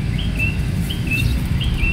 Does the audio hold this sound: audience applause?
no